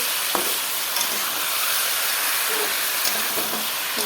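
Ridge gourd and potatoes fry in a pan, a steady bright sizzle and hiss with occasional light taps of stirring, close and continuous with no talking.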